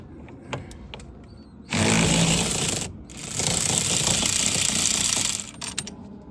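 A powered socket driver whirs loudly on a Ford Mustang steering wheel bolt in two sustained bursts separated by a short pause, preceded by faint clicks and light handling noises.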